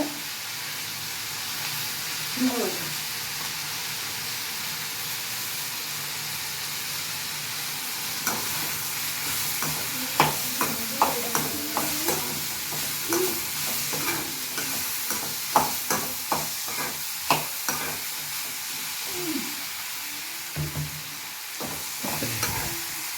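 Onion and tomato fry in a pan with salt and asafoetida for a mint chutney, a steady sizzle under repeated sharp scraping strokes of a spoon stirring close by, with no talk.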